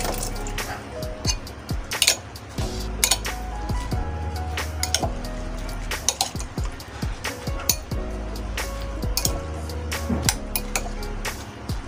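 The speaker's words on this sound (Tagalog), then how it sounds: "Saka natin haluin." Kilawin being stirred in a bowl, with repeated clinks and knocks of a utensil against the dish and some wet, liquid sounds in a steady uneven rhythm.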